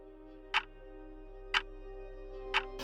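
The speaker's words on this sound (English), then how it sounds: "there's a clock on my wall, and when I meditate, after a while I start hearing it" A wall clock ticking in a quiet room, three sharp, evenly spaced ticks about a second apart over a faint steady hum.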